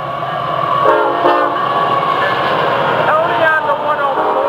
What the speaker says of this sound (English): The hot train is steaming toward me right now.